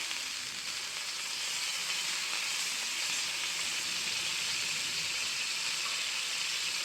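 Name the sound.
butter sizzling on a hot pan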